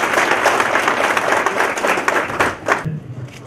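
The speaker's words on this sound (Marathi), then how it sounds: "तर एकदा जोरदार टाळ्या व्हायला हव्या" An audience at a training programme event gives a loud, dense round of applause that fades out near the end.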